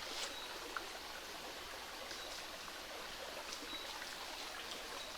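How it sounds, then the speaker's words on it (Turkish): A stream flows beside a farm field near Gönen, making a steady, soft rushing wash that continues unbroken. It is fairly faint and carries no talking. "Bakın harika bir derenin kenarındayım"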